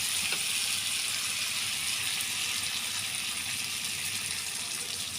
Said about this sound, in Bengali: আমি এখন এটাতে পানি অ্যাড করে দেব।